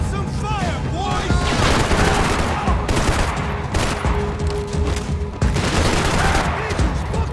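Dense, rapid gunfire from Max Payne 3 rattles in loud overlapping bursts for several seconds, with booming shots mixed in and shouting voices underneath.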